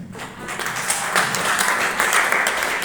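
Steady applause from an audience at a public event with a Kenyan cabinet secretary, continuous and fairly loud throughout, with faint voices mixed in.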